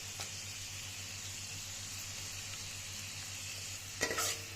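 Bay leaf, cinnamon, cardamom and cloves fry in hot oil with a steady soft sizzle, capped by a brief clatter of stirring near the end.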